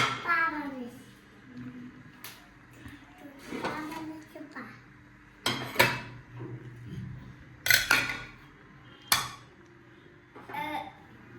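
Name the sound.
dishes being washed after iftar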